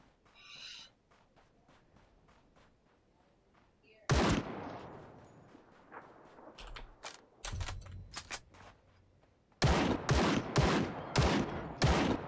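Gunfire rattles in Ring of Elysium: a few faint distant shots at first, then loud close bursts of rapid automatic fire in clusters separated by quieter gaps.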